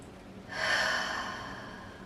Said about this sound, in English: take the biggest breath that you take in all practice